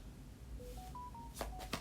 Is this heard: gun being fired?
no